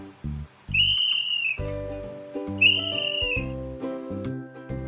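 A whistle blown twice, each a bright held toot of under a second, alongside simple musical notes from a children's English lesson.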